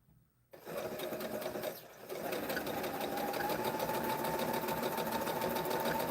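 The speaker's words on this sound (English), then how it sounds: "So you sew a 1/4 inch from the edge." A sewing machine stitches quilt block pieces a quarter inch from the edge, starting after a brief silence with a steady, close, continuous whirring hum that pauses briefly and then runs on evenly, with no talking.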